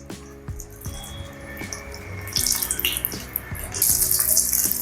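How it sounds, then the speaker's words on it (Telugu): Chicken cheese samosas frying in hot oil, a close sizzle and bubbling that swells louder partway through as more pieces go in. "మనం ఒక్కొక్క సమోసాని మెల్లగా ఆయిల్ వేయాలి."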